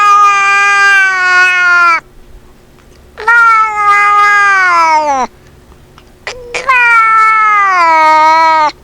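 An angry cat lets out three long, loud, drawn-out wailing meows with a brief yowl between the second and third, each cry sliding downward and separated by short quiet gaps.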